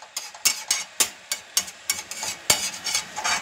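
Ginger garlic paste being sautéed in a pan for prawn masala, with rhythmic scraping and tapping of a spatula against the pan over a soft, steady sizzle, close up.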